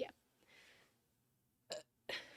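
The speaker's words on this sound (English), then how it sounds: "That was the tiniest little burp" A tiny, quiet burp, followed by a couple of short, sharp vocal bursts.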